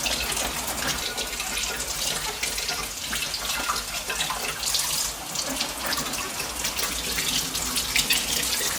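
Tap water runs steadily into a sink as vegetables are washed, a continuous close splashing hiss with no talk over it.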